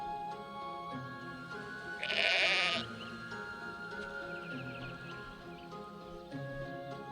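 Sheep bleat in the Black and White video game, a loud close bleat rising over a steady bed of rustling ambience and fainter animal calls, with no talk.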